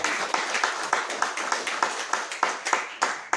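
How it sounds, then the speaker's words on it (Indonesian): A church congregation claps together in a steady rhythmic beat, a dozen or so sharp, even pulses sounding at close range in a lively worship service. "Tepuk tangan bagi Tuhan."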